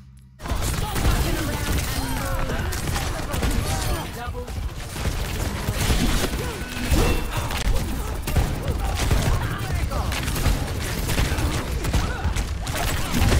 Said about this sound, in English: Someone else is shooting the person you're shooting.